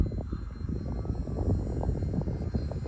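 An FMS 1300mm PA-18 Super Cub RC plane flies in stabilized mode shortly after takeoff, its small electric motor giving a steady, fairly distant whir under outdoor wind noise.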